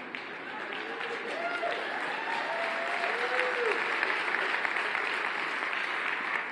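Sustained audience applause at a technology showcase talk, a dense, even wash of many hands clapping from a large crowd, with a few faint voices and cheers mixed in.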